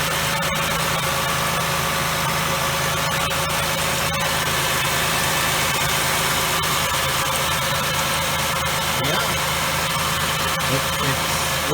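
A Ford Windstar engine idles steadily and smoothly after a water bypass tube repair, a close, even mechanical hum with light ticking and no talking.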